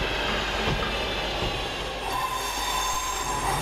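West Midlands Railway units 323207 and 323201 pull out of Barnt Green station. The electric train hums steadily with wheel squeal and faint rail clatter, close by and continuous.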